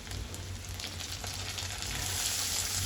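Onions and garlic sizzle in a hot pan for lasuni methi, a steady soft crackle with faint stirring and no voices.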